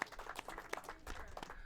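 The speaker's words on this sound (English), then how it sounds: "give an applause to our Bradley" A small group at a political delegate meeting applauds Bradley, a brief, faint patter of scattered hand claps, quiet and close, fading within a couple of seconds.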